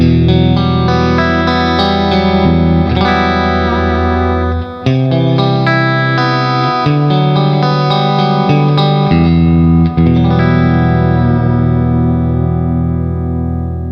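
VOLA JZ FRO electric guitar on pickup position 2, played through distortion, chorus and reverb effects: full sustained chords and ringing notes, loud and close, with a short dip in the strumming near the middle and no talking.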